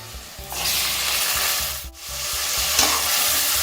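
Onions sizzle loudly in a hot pan as they are sautéed until golden for a chicken gravy, with stirring scrapes and a brief dip in the hiss partway through.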